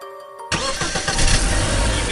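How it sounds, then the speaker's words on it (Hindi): A car engine cranks and catches abruptly after a quiet moment, then settles into a steady running roar that swells slightly as it begins to drive away, loud and close. "इविल नन और ग्रैनी गाड़ी में बैठकर वहाँ से जाने लगे।"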